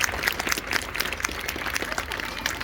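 A crowd claps together at a May 8, 1945 commemoration ceremony, a brief, dense burst of applause that stays even throughout, with no voices standing out.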